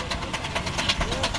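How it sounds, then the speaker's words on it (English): A two-cylinder compound steam engine runs in a show ring, giving a steady, fairly loud mechanical chuffing and rumble with faint rhythmic beats under crowd noise and possible talk. "This is a compound engine as well."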